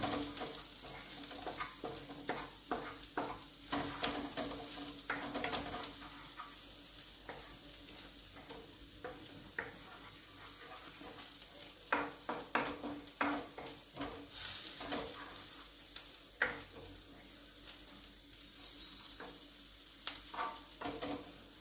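Onions sizzling in a frying pan until golden brown, a steady crackling fry with a spoon stirring and scraping now and then, close and fairly quiet, with no talking.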